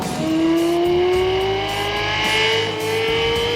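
A Lexus LFA engine revs hard like a racing car, a loud close high-pitched wail that climbs smoothly in pitch, peaks, then dips slightly and holds, with no talking.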